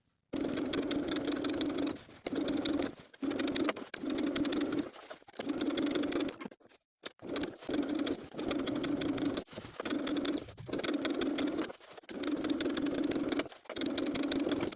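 Sewing machine top stitching a denim jacket sleeve seam, running in close, loud bursts of rapid stitching separated by short pauses, with faint cooing of pigeons in the background.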